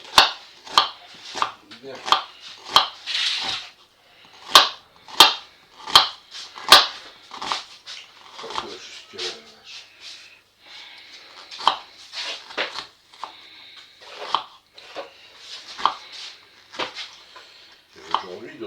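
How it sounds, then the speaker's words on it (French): A knife finely minces food for stuffed apples on a board, giving a run of sharp, irregular chopping taps close by, with a brief spoken word partway through. "nous allons émincer donc, le plus finement possible"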